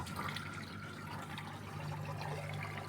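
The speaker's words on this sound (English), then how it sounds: "It can be satisfying sound on the drain hose." A Beko washing machine on a drain-only cycle pushes water out through its drain hose, giving a steady gushing, gurgling flow over a constant low pump hum, close and unbroken throughout.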